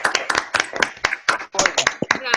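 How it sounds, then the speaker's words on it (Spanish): Applause from participants in an online psychoanalysis talk, heard through open microphones: a few people clapping in quick, uneven bursts close to the mic, with brief bits of voice mixed in. "podemos habilitar los micrófonos para el aplauso"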